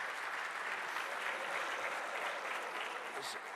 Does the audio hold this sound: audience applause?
yes